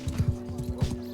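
Horse hooves clip-clop in Mount & Blade Bannerlord Online, a quick run of soft, low thuds in an uneven gallop rhythm lasting about a second, close and moderately loud against a steady background hum.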